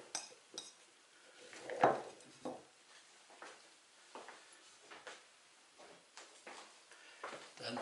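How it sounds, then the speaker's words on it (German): Potatoes tumble into a prepared bowl for an onion and potato bake, making quiet, irregular knocks and clinks close by, with no voice over them. "Jetzt kommen die Kartoffeln rein."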